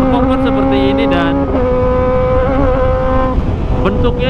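A Kawasaki ZX25R motorcycle fitted with an Arrow Pro Race exhaust, revving close by in loud high-pitched whining bursts that rise and fall, with a short drop near the middle and a sharp blip toward the end.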